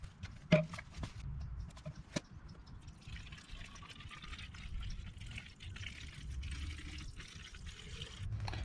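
Purple Power cleaning liquid trickles and splashes into a container, with a few sharp clicks and knocks over a low steady background.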